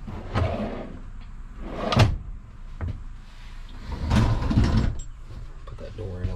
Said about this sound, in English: Below the sink, you have a couple pull-out drawers.